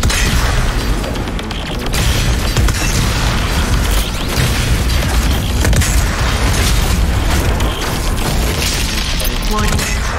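The BFG 10,000 firing in Doom during the Mars Core level, a sustained wall of loud booming explosions and crashing mechanical noise that fills the whole stretch without letup.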